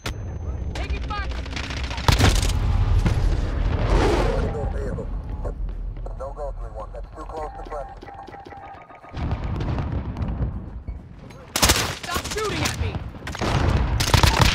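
Gunfire in Call of Duty Modern Warfare Ground War: dense bursts of automatic fire and single shots from several weapons, loud and close, mixed with radio chatter and game voices, with a lull in the middle before heavy bursts resume.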